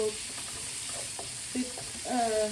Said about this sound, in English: fry your onion